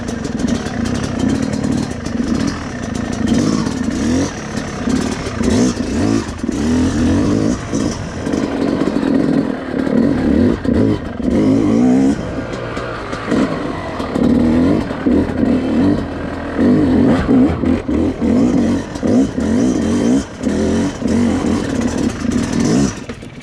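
Yamaha YZ250X two-stroke dirt bike engine loud and close, rising and falling with throttle blips and revs while riding, steady with brief dips throughout.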